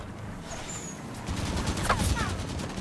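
Scattershot gunfire in the Halo 5: Guardians video game, a dense spread of rapid blasts over steady game noise, with people talking over it.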